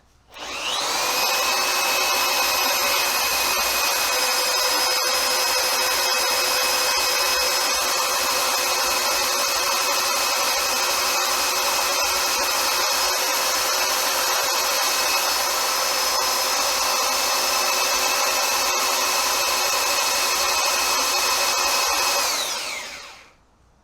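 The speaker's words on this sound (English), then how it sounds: "Put this tool-o-matic on, make sure it's going forwards. And we'll spin away." Tool-o-matic power tool spinning an R380 oil pump, a steady high whining drone that starts up, holds at constant speed for about twenty seconds, then winds down, loud and close with no talking.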